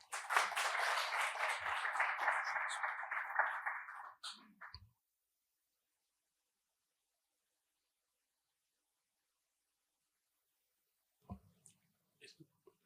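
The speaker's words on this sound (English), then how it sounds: "Please join me in giving a round of applause to welcome Dr. Amit Khosla" An audience applauds to welcome a doctor to the podium at a university health lecture. The dense, steady clapping lasts about four seconds and then stops into near silence, broken later by a few faint clicks.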